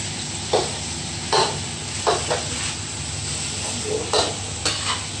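Food for a Thai dish is stirred in a hot pan, a constant sizzle with about half a dozen distinct scraping strokes of the utensil spaced roughly a second apart.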